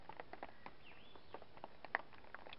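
Water drips from forest trees after rain at a campsite in Algonquin Park, heard as scattered soft irregular patters and taps at low volume, with faint bird calls in the quiet background.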